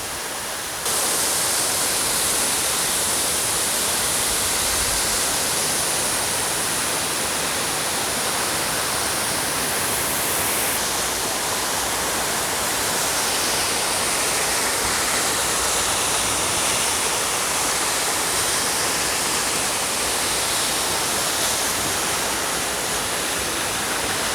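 Yerköprü Waterfall in Mersin, Turkey, roars steadily and loudly throughout, a dense unbroken rush of falling water with no voices.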